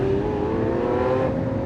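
A Lamborghini Aventador S supercar accelerating, a steady engine drone with a smoothly rising pitch, heard continuously and fairly loud from inside or near the car.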